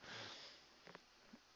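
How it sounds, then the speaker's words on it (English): Quiet, close breathing with a few short sniffs from a person winded after walking the dog, faint against a steady background hiss. "I'm breathing loud."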